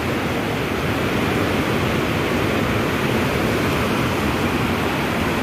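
Rain falling at night over a flooded area, a steady, loud, even hiss that fills the whole stretch without pause and without voices.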